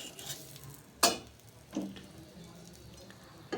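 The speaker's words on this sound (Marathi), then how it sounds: "आपण तव्यावर टाकून घेऊयात हा पराठा आणि यावर थोडं तेल घालून घेऊयात आणि हा व्यवस्थित भाजून घेऊयात" Fenugreek paratha roasting with oil on a tawa gives a faint, steady background sizzle, broken by a few sharp clinks and scraping taps of a utensil against the pan.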